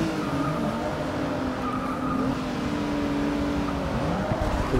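Heavy Rolls-Royce Dawn convertible in a racing game, its engine droning steadily and loud throughout, rising slightly as it accelerates, with a tire squeal-like tone riding on top.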